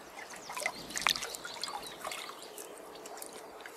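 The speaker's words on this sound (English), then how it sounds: "What if I shut my eyes and then wash my face in the water?" Water trickles and splashes in small irregular bursts as someone washes their face outdoors on Midsummer's Day, close and fairly quiet, with a brighter splash near the middle and no talk.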